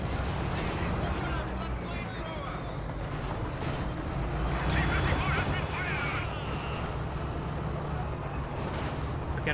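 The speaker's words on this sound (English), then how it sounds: "rocket artillery barrage, and that may be the end of the mortar team." A rocket artillery barrage in a Company of Heroes 2 match rolls on as a dense, continuous roar of launches and explosions for about ten seconds, with a commentator talking over it.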